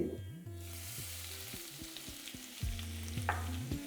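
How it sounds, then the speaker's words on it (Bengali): Chopped garlic drops into hot oil with whole cumin and fennel seeds for a soyabean chop, crackling in a lively, continuous close sizzle with a few stirring sounds. "দিয়ে দিচ্ছি এখানে রসুন কুচি।"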